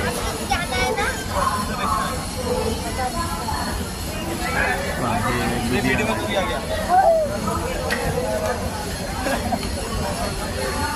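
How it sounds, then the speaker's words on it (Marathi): Busy platform ambience at Ludhiana railway station, with a steady rumble of rail traffic and a constant crowd babble of voices throughout. "Ludhiana railway station"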